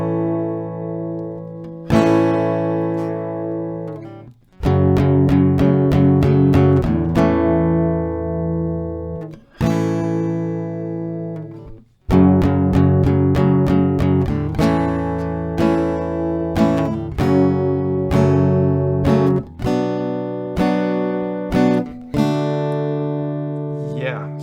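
Acoustic guitar plays the second verse of a song, with strummed chord passages broken by short pauses and restarts, loud and close, with no voice over the playing.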